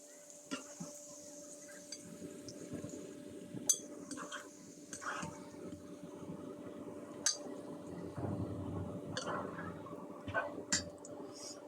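Crispy fried potato bhaji being served out of a pan, with scattered light metallic clinks and scrapes of utensils against the pan over a faint background hum, some clusters of clatter, no talking.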